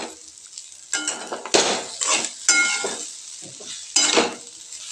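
Potatoes and peas stirred and sautéed in oil in a pan, with loud close scraping and clinking of a spatula against metal in uneven bursts over a soft sizzle.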